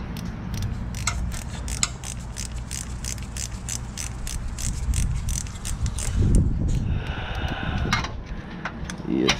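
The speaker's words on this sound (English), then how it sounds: "Whoever invented ratcheting wrenches is my hero." A ratcheting wrench works on the compressor of a 2013 Toyota Corolla, a long run of rapid close metallic clicks in quick strokes, with brief tool clatter near the end.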